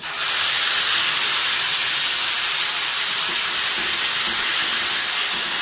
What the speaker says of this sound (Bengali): যে তেলটা আমার সবজি ভেজে এক্সট্রা ছিল তার মধ্যে এখন আমি দেবো হচ্ছে আদা আর রাঁধুনি বাটাটা